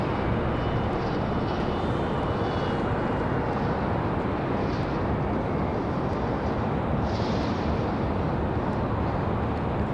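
A Breeze Airways airliner pushes back on the ramp at Raleigh-Durham International Airport, heard as a constant loud broadband roar of engines and ground equipment that holds steady throughout without clear changes.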